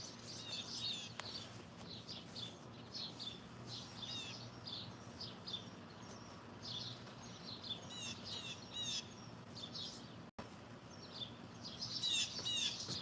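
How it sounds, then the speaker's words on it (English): A blue jay calls in a backyard with other birds around, its sharp squawks and chirps coming in repeated bursts over a steady low hum, with no talking. "Love blue jays."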